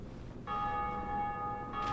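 A second church bell in the Dark Souls video game rings out after a brief quiet lead-in, one sustained resonant toll that hangs steadily and then swells again near the end, loud and close with no talking.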